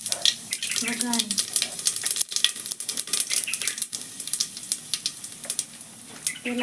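Mustard seeds and cumin crackle and sizzle in hot oil as a Gujarati undhiyu vegetable dish is started. A dense, close frying hiss runs throughout, dotted with sharp pops.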